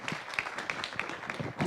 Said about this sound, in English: I request that we give them a round of applause for the insights that they have shared